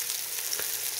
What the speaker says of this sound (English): fry these up good and crispy